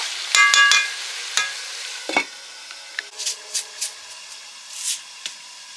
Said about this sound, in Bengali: ভেজে রাখা মাংসের আলুগুলো দিয়ে দিলাম। দিয়ে জ্বালানিতে কষে কষে মাংসটা রান্না করব।